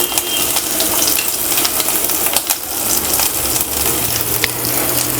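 Finely chopped ginger and two green chilies fry in hot coconut oil, giving a loud, steady sizzle with scattered crackles and pops that carries on throughout.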